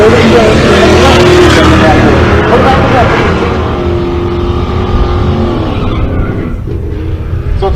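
A 1955 Chevrolet at a drag strip during race week in Pueblo, Colorado, its engine roaring loud and close at first, then fading as it pulls away, with an announcer talking over it.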